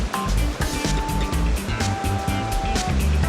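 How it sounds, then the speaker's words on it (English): Ocean surf at Sabang Beach in Baler, Aurora, Philippines, a loud, continuous wash of breaking waves with a rolling low rumble and no voices. "The waves of Sabang Beach attract surfers from far and wide"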